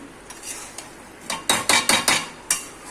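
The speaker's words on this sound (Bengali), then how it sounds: "আবার ঢাকা দিয়ে দিচ্ছি, আবার 15 মিনিট পরে দেখাচ্ছি তোমাদের।" A lid goes back onto a pot of simmering mutton curry with a quick burst of sharp metallic clanks and knocks, near and fairly loud after a few softer taps.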